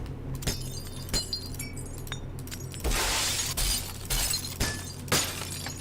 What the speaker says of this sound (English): Maybe we'll also play a sound, like a little glass crack sound when this falls.